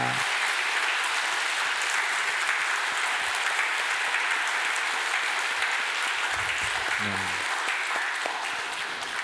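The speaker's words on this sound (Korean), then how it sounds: "우리 한번 힘차게 박수합니다" A church congregation at a Sunday service claps heartily, a steady, even wash of applause throughout, with a faint low voice murmuring beneath it.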